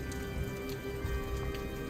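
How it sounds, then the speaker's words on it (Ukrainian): Close, irregular patter of rain drops falling onto wet, moss-covered stone over a steady damp background in the Aare Gorge, Switzerland, with no voices. "капає дощ"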